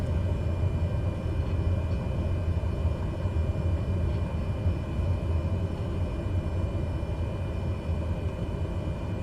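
A Cessna 208 Grand Caravan in a flight simulator runs its turboprop engine at a steady, constant drone through a takeoff roll, with a low rumbling hum and no voices.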